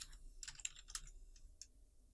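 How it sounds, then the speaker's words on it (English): Keys clicking on a computer keyboard as a word is typed, a quick cluster of close, crisp taps followed by a few scattered keystrokes, with no voices. "if I am typing the word popcorn, but I accidentally type the R before the O"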